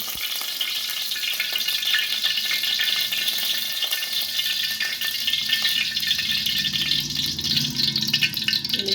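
Cumin, mustard seeds and urad dal crackle in hot oil for a carrot palya tempering: a dense, steady hiss of frying with fine popping, close up and unbroken, no speech.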